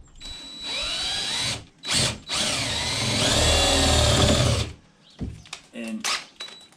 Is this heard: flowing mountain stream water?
no